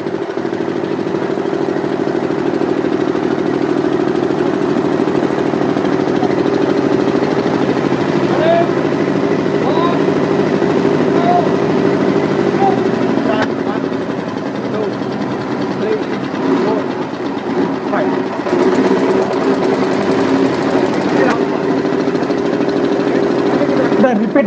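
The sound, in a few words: engine running at no load in test lab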